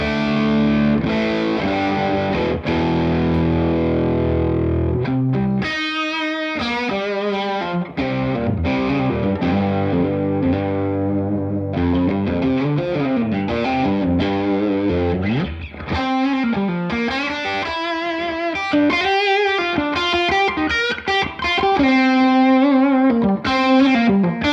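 Electric guitar through a crunchy Kingsley Jester overdrive pedal plays chords and bluesy lead lines for an extended stretch, loud and close with no speech.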